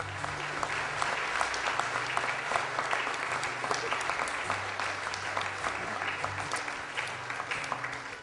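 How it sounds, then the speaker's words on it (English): Wedding guests applaud and cheer after the couple's kiss, a dense, continuous roll of clapping from a crowd with scattered whoops and voices mixed underneath, holding steady throughout. "everybody was cheering and clapping"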